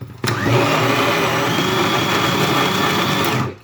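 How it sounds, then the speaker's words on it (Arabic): A blender grinds a homemade Nutella mixture loudly and steadily after a short start, a dense whirring motor roar that holds for several seconds before cutting off. "وهكمل طحن بقى في الخلاط اهو"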